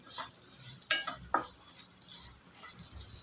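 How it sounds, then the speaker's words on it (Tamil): Onions sautéing in a pan for a vegetable chutney give a soft, steady sizzle with a few stirring scrapes and light clinks of a utensil against the pan. "நல்லா இது வெங்காயம் நல்லா வரு வதங்கி வரணும்"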